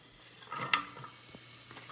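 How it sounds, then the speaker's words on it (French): Soft sizzling crackle in a pan while making corn soup, with a brief stirring scrape, a sharp clink near the middle, then quieter frying hiss. "Je l'entends grésiller."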